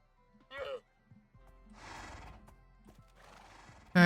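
A Minecraft horse gives several whinnies and neighs in short separate bursts with soft hoof clops between, ending in a sudden loud sound.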